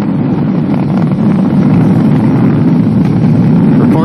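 A SpaceX Falcon 9 with Merlin 1D engines, carrying a NASA Dragon, roars steadily and loudly during launch ascent. The dense, continuous rumble holds at full strength throughout with a windy, buffeting texture.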